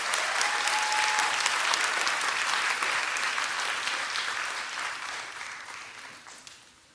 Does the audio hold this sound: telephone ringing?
no